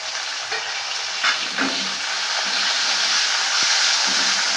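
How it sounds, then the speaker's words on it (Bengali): Steady frying sizzle of chopped tomato in a pan, a continuous hissing crackle with occasional soft stirring scrapes, close and fairly loud, no voices. "টমেটো হালকা করে ভেজে নেব"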